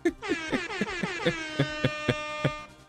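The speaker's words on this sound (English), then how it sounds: "Oh, it says air horn" A blaring air horn sound effect sounds in a rapid series of loud, sustained, rising blasts with rhythmic pulsing, standing alone without any talking over it.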